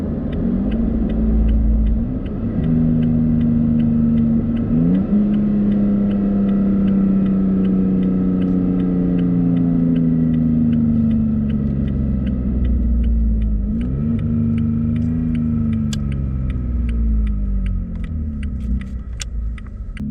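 A deep, steady engine rumble from a 2017 Toyota Tacoma TRD Off-Road pickup with an MBRP TurnDown exhaust, rising and falling exhaust tones as the revs drop and climb through several downshifts, close and loud throughout.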